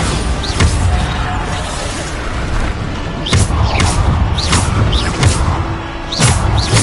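Bombarda blasting spells go off repeatedly in a Hogwarts video game, loud booming impacts with whooshes and crashes arriving in irregular bursts, several sharp hits close together.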